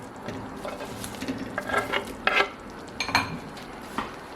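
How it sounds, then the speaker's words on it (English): Sausages are placed back into a creamy coconut sauce in a pan, giving close clinks of a utensil against cookware and soft stirring scrapes over a faint simmer, with no voices. "Going to add back the sausages."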